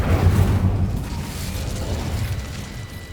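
Incendio fire spell cast in Hogwarts Legacy, a loud low whooshing burst of flame at the start that rumbles and fades into a softer crackling tail.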